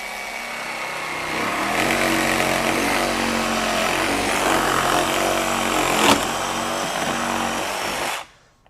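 A RIDGID R86346B 18V sub-compact barrel-grip cordless jigsaw with orbit on setting 1 cuts through 1-inch hardwood. The loud, buzzing blade rasp ramps up, holds steady for about six seconds, then cuts off abruptly.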